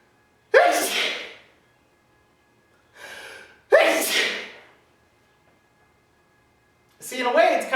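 Two sharp, close sneezes, each preceded by a quick gasping inhale, then a short burst of breath afterward.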